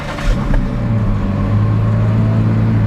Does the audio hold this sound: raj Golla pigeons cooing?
no